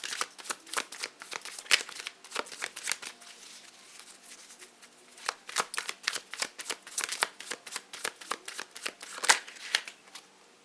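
Tarot cards are shuffled in a long run of dense, crisp riffling, a short pause, then more quick riffles nearby, with no talking.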